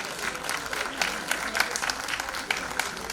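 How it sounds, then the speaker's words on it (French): Audience applause at an award trophy presentation during a diaspora awards ceremony in Paris, a steady dense clapping that swells across the whole span with a few sharper claps standing out, fairly close and without any talk over it. "Sous vos applaudissements encore."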